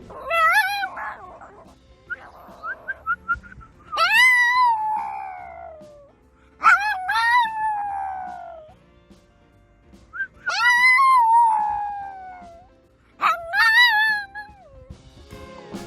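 Small dogs howl in long rising-and-falling wails, several separate howls spaced a few seconds apart, loud and close, with gusts of strong wind between them.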